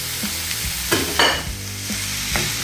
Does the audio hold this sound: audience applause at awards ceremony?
no